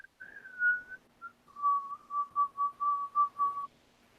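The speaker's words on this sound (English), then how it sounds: "where's that whistle coming from?" A whistled melody from Dragon Age: a long wavering note, a short blip, then a run of about eight quick rhythmic pulses at steady pitch, clear and fairly close with no voices.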